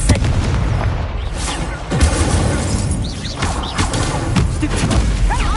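Incendio fire spell cast during frantic Hogwarts Legacy combat on PS5, a loud burst amid a steady barrage of booming spell impacts and crashes, with a voice speaking over the dense battle noise.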